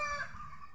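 Small ducklings peep in short, close, rapid bursts, a brief busy chorus of high calls without talk.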